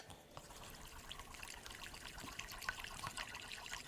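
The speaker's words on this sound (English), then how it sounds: "And now we're just going to mix it into the water." Sourdough starter stirred into water while making dough, giving a faint, steady wet trickling and sloshing of liquid throughout, with no talking.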